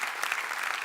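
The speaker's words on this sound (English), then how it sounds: "Give him a round of applause." Audience applause at a 2018 NAMM conference talk, a short steady burst of many hands clapping together at even loudness, with no voices over it.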